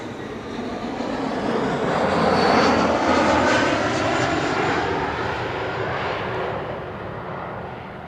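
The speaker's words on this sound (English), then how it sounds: "KLM flight 972, arriving from Humberside," A KLM Embraer 175 passenger jet arriving at Amsterdam Schiphol, its engines building into a broad, loud roar that peaks midway and then slowly fades as it passes.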